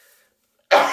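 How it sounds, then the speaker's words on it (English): A single loud, close cough bursts out after a stretch of near silence, during a face-washing routine with a milk-based skin care cleanser. "Nothing like coughing."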